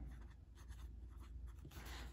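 Fountain pen nib scratching across Log and Jotter paper, a TWSBI Eco in black, heard as steady close, soft scraping strokes in short bursts with a slightly louder flurry near the end, no voices.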